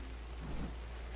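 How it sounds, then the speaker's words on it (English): Rain falling inside a cave in the video game Ark, a steady, soft wash of rainfall with a faint low rumble like distant thunder, quiet and continuous throughout with no voices. "Yeah, I know it's raining in the cave"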